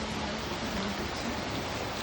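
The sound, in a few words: rain falling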